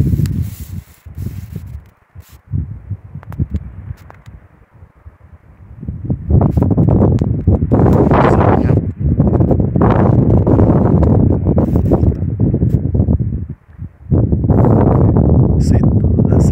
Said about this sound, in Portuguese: o vento tá forte, o vento aqui tá louco, ó, chacoalhando tudo aí.